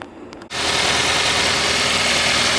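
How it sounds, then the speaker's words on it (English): A car alternator spun by a running motor on a repair bench after a brush job starts up with a sudden steady loud whirring drone after a brief quiet moment, continuous and close. "As the motor is running now, you can see."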